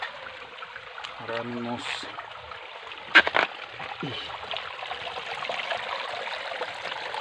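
A creek running fuller than usual after flooding, in a shady wooded spot, gives off a steady rushing hiss, with a brief splash, while a person talks over it.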